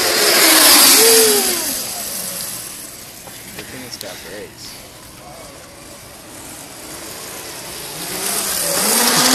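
A 50cc pit bike converted to a brushless electric motor rides fast past the listener. Its whine and rushing noise are loud at the start, fade as it moves off, then rise again as it returns, while people talk nearby.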